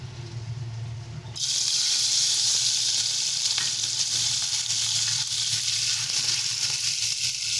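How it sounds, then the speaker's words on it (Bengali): Morola fish coated with salt and turmeric drop into hot oil, setting off a sudden loud, dense sizzle that holds steady and close throughout, with no voices. "এবারে আমরা মাছগুলো ভেজে নিচ্ছি।"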